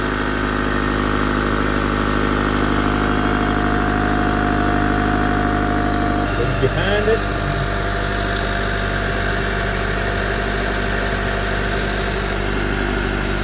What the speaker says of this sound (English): The engine has been running for a couple minutes now